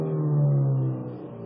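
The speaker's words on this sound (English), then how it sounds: "give it a little rev there" A car engine idling while parked on a sand sill is given a brief rev, rising into a steady, close hum that then eases back down.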